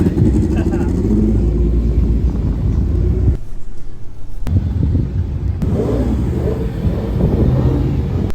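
An Audi S4 engine rumbles and revs loudly up close at a Japanese car show, with a brief lull midway before the roar returns, and voices talk over it.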